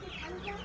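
Sonali super hybrid chickens, about a month old, cluck softly on a poultry farm, a brief, faint murmur of fowl sounds with a voice faintly in the background.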